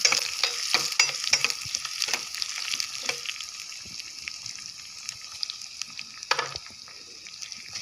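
Shallots fry with black gram and fenugreek in hot oil for a curd curry seasoning, crackling and sizzling fairly quietly with intermittent stirring clinks, no talking.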